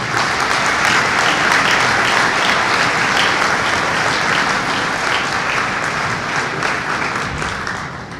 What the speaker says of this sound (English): let's also give a big round of applause for Coach Jim Bashaw's wife, Sherry,